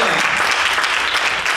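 Congregation clapping at a youth church service at Landmark UPC, a short, dense, steady burst of applause filling the room at close range.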